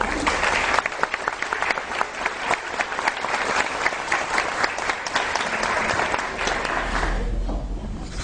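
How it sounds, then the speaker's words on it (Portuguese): Audience applause for an ikebana artist at a religious education conference, a dense, steady crowd clapping for about seven seconds before tapering off abruptly near the end. "Vamos agradecer então com uma salva de palmas."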